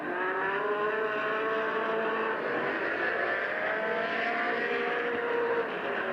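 Race cars roar continuously at Midvale Speedway during a 1990 Fall Classic event, a steady loud blend of multiple engines with rising and falling whines as cars battle around the oval, no voices.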